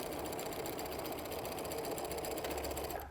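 Sewing machine running steadily as it stitches a quarter-inch seam through jumper fabric for a pillow, a continuous close whirring hum that stops abruptly at the very end, with no talking.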